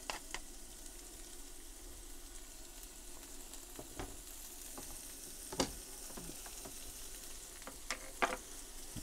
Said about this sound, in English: brown the onions off a bit.